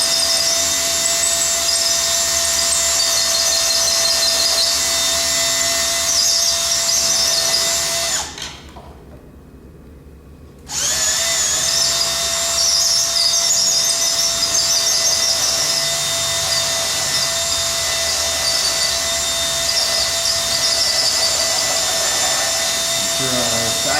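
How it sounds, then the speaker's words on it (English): An electric drill bores through material with a steady high-pitched whine, stops for a couple of seconds of near silence, then resumes at the same pitch and runs on, close and loud. "Making sure that I'm keeping the drill level."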